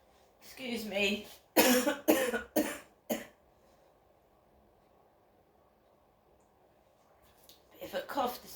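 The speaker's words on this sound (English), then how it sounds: "Bit of a cough this morning." Several sharp coughs in quick succession, close to the microphone, after a brief bit of speech, then a long quiet stretch before talking resumes.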